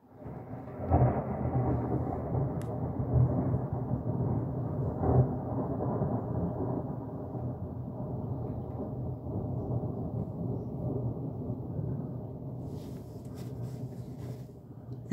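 A long, deep rolling rumble of thunder in a strong thunderstorm in Bischofswerda, loud and sustained with a couple of heavier swells early on before slowly fading, faint rain beneath.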